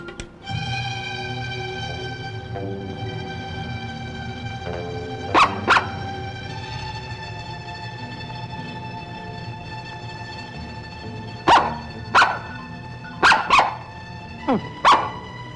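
Dogs bark in sharp single yaps and quick bursts, first a pair and then a cluster of loud barks, set against a steady humming tonal background with no talk.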